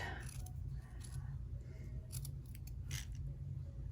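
Scissors snip through wool hat material to cut a small hole in the center, with a few short crisp cutting bursts over a steady low hum.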